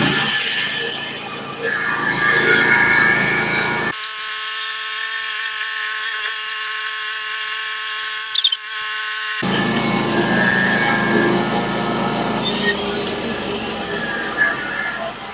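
A sharpened Stellicut band blade on a sawmill cuts through a large pine log, producing a loud, steady high whine for several seconds, set between stretches of rumbling machine noise.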